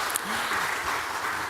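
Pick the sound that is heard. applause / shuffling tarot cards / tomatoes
applause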